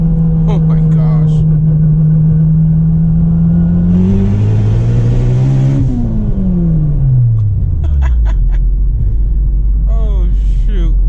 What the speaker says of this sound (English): You can hear the tires grip up.